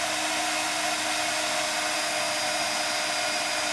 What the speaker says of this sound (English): I slowly start to move my heat tool over.